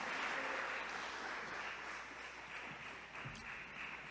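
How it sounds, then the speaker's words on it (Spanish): A church congregation applauds during an evangelistic sermon, steady faint clapping that fades slightly and then picks up again with scattered claps. "Dale un fuerte aplauso al Señor."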